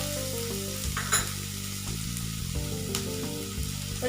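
Chopped onion sautéed with ginger garlic paste in a pan over low heat gives a steady, close sizzle and frying hiss, joined by soft stirring and backed by continuous music.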